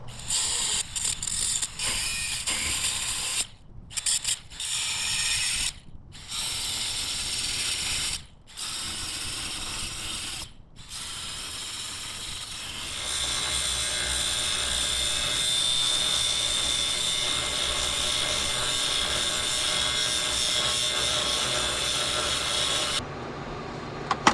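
A bandsaw runs with a harsh mechanical whine, stopping and restarting in several short bursts before settling into a long steady cut that cuts off near the end.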